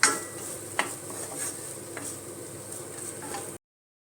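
Masala with turmeric and fennel powder sautéing in a home kitchen pan, a faint steady sizzle with occasional soft utensil scrapes and taps, no voices.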